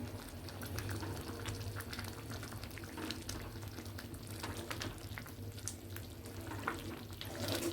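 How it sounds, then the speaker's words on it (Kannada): Grated potato gojju sizzling and frying steadily in a pan, stirred continuously with a ladle, with soft scraping and bubbling sounds at close range, quiet throughout. "ನೋಡಿ ಕೈನ ಈ ಥರ ಆಡಿಸ್ತಾನೆ ಇರಬೇಕು ಸೌಟಲ್ಲಿ"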